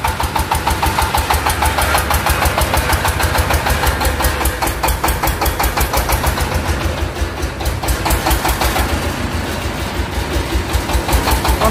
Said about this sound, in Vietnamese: Con máy trộn bê tông tự hành tự cấp liệu này là của công ty Hồng Hà, công ty chuyên về máy xây dựng